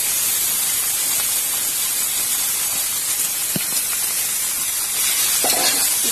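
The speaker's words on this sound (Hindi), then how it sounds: "अब मैं सारे कटे हुए पीसेस वाले आलू डाल दूंगी इसमें सारे मिलकर" Chopped potatoes frying with golden onions in a pan, a loud, dense, steady sizzle with an occasional faint stir or tap underneath.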